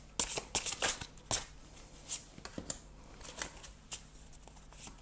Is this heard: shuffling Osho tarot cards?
yes